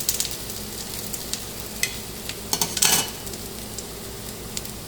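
Bread slices fry in oil in a pan, a steady crackling sizzle with occasional sharper pops and a brief burst of spattering, plus faint utensil taps against the pan.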